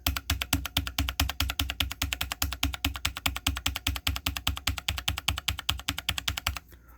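Rapid, even keystrokes on a Fnatic Streak65 LP low-profile keyboard, close and crisp, a steady run of clicks for several seconds before stopping.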